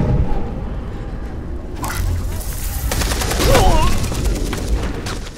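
Gunfire in the video game Beyond: Two Souls, bursts of rapid automatic shots and impacts over a rumbling backdrop, loud and sustained through the second half.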